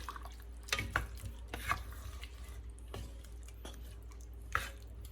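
Seasoned chicken drumsticks being stirred together in a pan, with a few soft scraping and clinking knocks of the utensil over a low, steady cooking noise.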